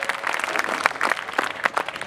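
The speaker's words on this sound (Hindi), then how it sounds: "एक बार मुझे ताली बजाकर सूचित कीजिए क्या सुनना चाहते हैं।" Audience clapping at a Hindi poetry recital in Udaipur, a brisk burst of many hands applauding close and loud with uneven rhythm, no voices over it.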